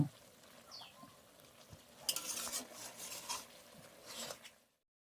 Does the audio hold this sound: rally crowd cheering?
no